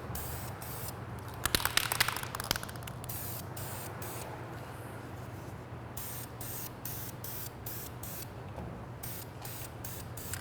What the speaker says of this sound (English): you want to lay it down a little heavier, get a nice wet coat so the paint lays down real smooth